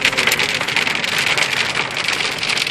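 Hail during a hail storm in Phoenix, Arizona, a dense, loud, continuous patter and hiss of ice pellets striking surfaces nearby, with no pause.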